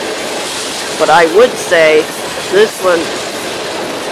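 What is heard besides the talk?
train passing on the Chicago Line near Buffalo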